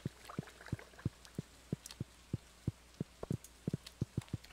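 Rain falling on the farm in the video game Stardew Valley, heard as a soft patter under a series of evenly spaced low, thudding taps in a steady rhythm, fairly quiet.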